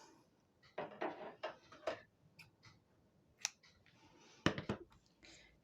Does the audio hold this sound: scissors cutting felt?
yes